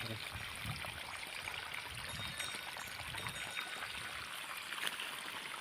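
Irrigation water flowing steadily through a wheat field, a faint continuous wash of trickling and streaming with no pauses.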